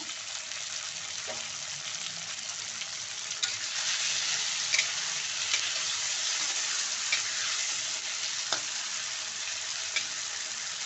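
Small onions frying in a pan for a spicy wedding-style dish, a steady close sizzle with a few faint clicks of a spoon against the pan.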